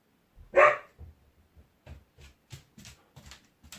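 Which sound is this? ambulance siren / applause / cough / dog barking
dog barking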